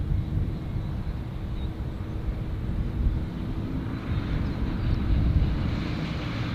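An airplane takes off at O'Hare International Airport, a steady broad roar with low rumble that swells slightly toward the end, heard from inside with no talking.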